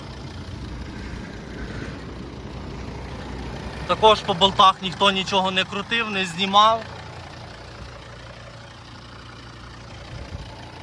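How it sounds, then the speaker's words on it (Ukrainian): A 2014 Volvo V60 2.4 D4 five-cylinder diesel engine idles steadily throughout, a low mechanical hum, while someone talks over it for a few seconds in the middle. "Зараз покажу вам, як працює двигун."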